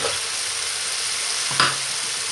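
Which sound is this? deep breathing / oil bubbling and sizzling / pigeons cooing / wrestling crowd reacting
oil bubbling and sizzling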